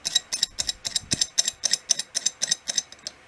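An antique Ford wrench mechanism being worked makes a rapid, regular series of crisp metallic clicks and ratcheting ticks, close and fairly quiet, about a dozen in a steady rhythm, with no talking.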